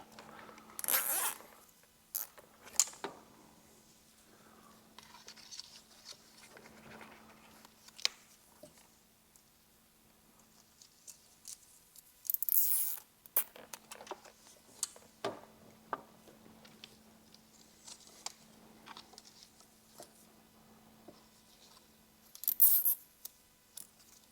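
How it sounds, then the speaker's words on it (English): Plastic zip ties ratcheting tight in short, faint clicking bursts spaced several seconds apart, with quiet rustling and handling noise in between, while a microphone wire is installed inside a Jeep JL Wrangler or JT Gladiator. "once you have all your zip ties in place and they're all secure"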